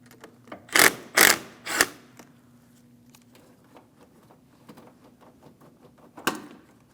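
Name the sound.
loosening the 10mm battery terminal nut on a Cadillac Escalade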